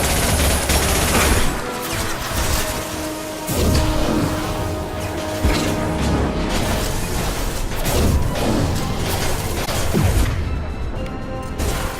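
Weapons fire in a Mass Effect firefight, with dense bursts of shots, crashes and impacts crowding a loud, busy battle mix that runs continuously with a few sharper hits.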